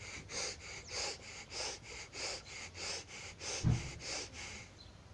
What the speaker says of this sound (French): ça, c'est respiration rapide, ça permet de bien oxygéner le corps